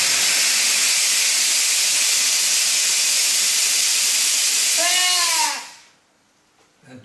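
A loud, steady hiss of steam blasts from an espresso machine steam wand for several seconds, rising briefly in a whine before cutting off abruptly into near silence.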